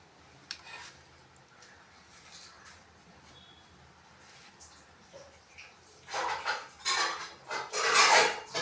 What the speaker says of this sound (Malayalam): നമ്മളതങ്ങ് അടച്ച് വെച്ചേക്കാം